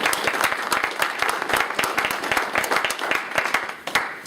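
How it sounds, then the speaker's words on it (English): Applause from a small group at a roundtable meeting, steady, fairly close clapping with many overlapping hand claps and a slight crowd murmur, no clear speech. "let's give her a round of applause for that."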